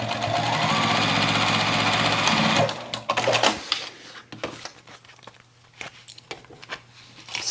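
A sewing machine stitches the sides of a tote bag made from old denim jeans, humming fast and steadily for a few seconds, then slowing into short uneven bursts and clicks, close and alone.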